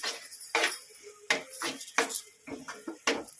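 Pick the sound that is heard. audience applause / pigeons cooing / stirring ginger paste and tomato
stirring ginger paste and tomato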